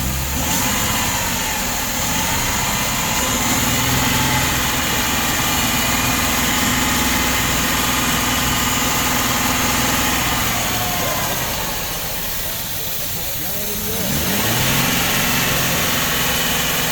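A car engine idles steadily during a BG intake and fuel system service, a continuous close, loud rumble that dips briefly in level and picks back up near the end.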